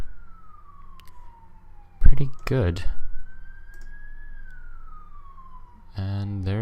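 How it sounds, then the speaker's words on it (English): An ambulance siren wails steadily as the vehicle passes by at a moderate distance, its pitch sliding down, then up, then down. Clicks and a voice come over it near the end. "And there goes an ambulance."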